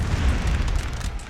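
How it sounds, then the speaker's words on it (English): Cannons fire canister shot in a Napoleon: Total War battle, a dense rumbling mass of low booms with overlapping blasts rolling together, loud and continuous. "We start to actually see some canister being fired"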